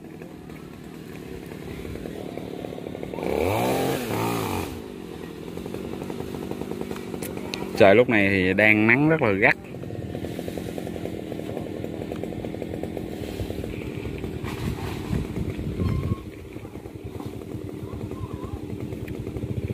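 A chainsaw revs in loud bursts, cutting through fibrous coconut palm fronds at the treetop, with someone talking over the steady engine drone between cuts.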